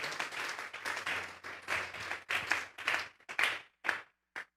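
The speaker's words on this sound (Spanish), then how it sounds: "Vamos a darle una ofrenda de palmas a Dios en esta hora." Church congregation clapping in uneven bursts, a crowd of hands applauding together that thins out into scattered, separated claps toward the end, fairly faint and set back in a room.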